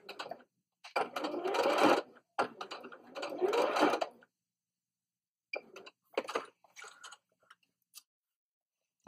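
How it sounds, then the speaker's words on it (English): A sewing machine stitches over fabric, then back stitches to close a reusable makeup wipe, running in two steady bursts of a few seconds each, then several short runs, close and alone. "I'm going to stitch over where I started and then back stitch again to close"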